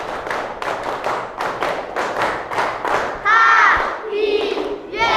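Students in a classroom perform a cheerful clapping chant, a quick run of evenly spaced claps followed by loud group shouts and sung calls.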